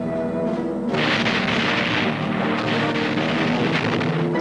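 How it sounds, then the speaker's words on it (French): Gunfire and booming blasts in a trailer for a war film set in the Dunkirk pocket, dense and loud with heavy rumbling explosions that grow after the first second, no voices heard. "Dans la poche de Dunkerque, une armée en déroute tire ses dernières cartouches"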